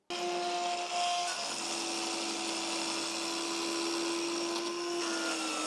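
A compact Dremel Blueprint power saw cuts through wood, its motor a loud, close, steady whine that stays even and uninterrupted from start to finish.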